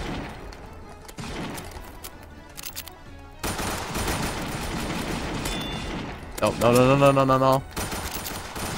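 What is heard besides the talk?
M9 pistol gunfire in Roblox video game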